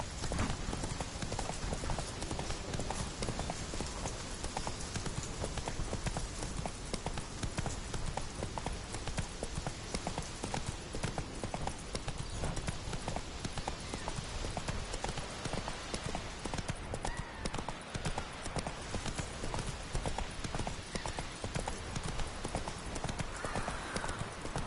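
Steady horse hooves clip-clop throughout a video game, a continuous, fairly loud trotting rhythm with dense game ambience behind it.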